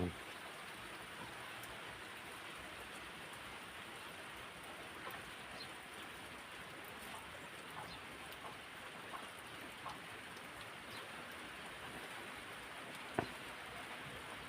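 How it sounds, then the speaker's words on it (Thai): Rain falling in cold weather, a faint, steady hiss of drops on surfaces that stays even throughout, with one small sharp knock near the end and no voices over it. "ฝนตกทั่วฟ้าบ่เนา"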